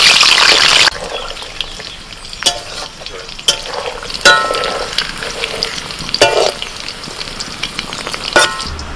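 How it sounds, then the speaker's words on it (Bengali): Potatoes frying in oil in a kadai for biryani, a loud broad sizzle at the start settling into steady frying hiss, broken by sharp scraping stirs of the spatula against the pan. "আলুগুলোকে একটু ভালো করে ভেজে নিয়েছি,"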